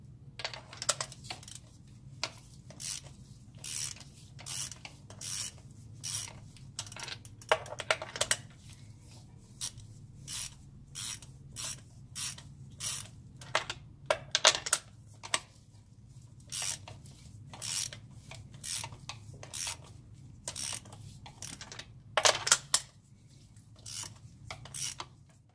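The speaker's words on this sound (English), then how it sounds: "Next, I'm going to remove the old spark plugs on the vehicle." Old spark plugs come out of an SR20 engine in an Infiniti G20: sharp clicks and ratcheting metal taps arrive in irregular bursts over a low steady hum, close-up, with no speech for the whole stretch.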